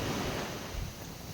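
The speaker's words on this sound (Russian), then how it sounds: "сейчас ветер поднялся" Wind gusts at a lakeside campsite on Ladoga, a brief, steady, fairly quiet rush of air mixed with surf noise.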